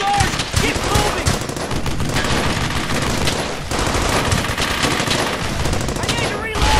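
Dense, loud video-game gunfire: sustained machine-gun bursts roar nearly nonstop for several seconds with one short gap midway, and a soldier voice calls out over the fire.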